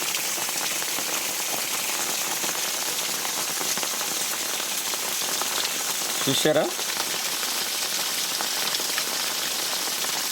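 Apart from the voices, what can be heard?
rain falling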